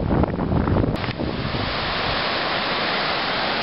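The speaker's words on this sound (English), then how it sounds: "there's a nice little sea breeze coming in off the ocean" Sea breeze and ocean waves on an island shore, a loud, steady broadband wash of surf and wind buffeting close to the microphone, with no speech.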